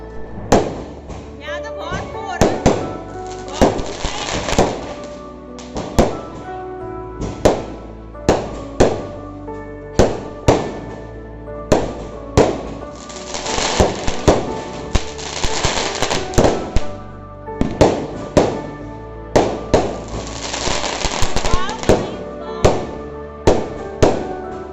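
Diwali firecrackers bursting outdoors amid heavy smoke, a rapid irregular string of loud cracks and bangs, some near and sharp, others overlapping in quick volleys, continuing throughout.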